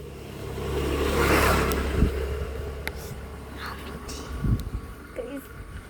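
A vehicle passes along a roadside near a school, its engine swelling and fading as it goes by, with a few thumps and people talking nearby.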